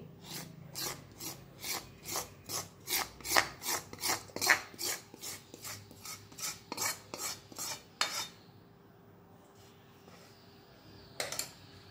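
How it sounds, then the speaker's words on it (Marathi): Jaggery being stirred into a laddu mixture, a run of rhythmic rasping scrapes of spoon against the pan, close and quick, then stopping before one last scrape after a pause. "आणि हे आता हलवून घ्यायचं आहे, म्हणजे एकत्र करायचं आहे"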